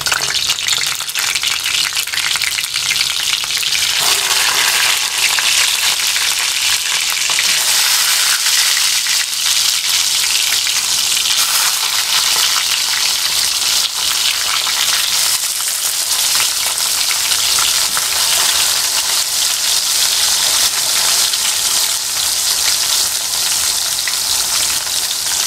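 Sliced eggplant sizzles loudly in shallow, lightly heated oil for Bengali begun bhaja. A dense, crackling fry holds steady and close throughout, with faint stirring beneath it.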